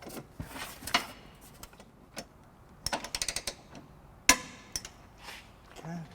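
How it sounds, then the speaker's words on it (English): A torque wrench with a 19mm socket tightening bolts on a trailer hitch on a 2015 Scion xB, giving a series of crisp metallic clicks and ratcheting ticks in irregular clusters, close by and fairly quiet. "we have our torque wrench here with our 19mm socket"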